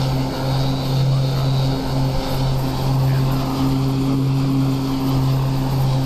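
Black Square Turbine Duke cruising in Microsoft Flight Simulator 2020, a loud steady turboprop engine drone with a constant hum throughout.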